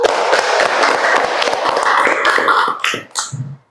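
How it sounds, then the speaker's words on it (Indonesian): A classroom of pupils claps together for a few seconds: dense, rapid, steady applause that breaks into scattered final claps and a few voices at the end. "Tepuk tangan dulu."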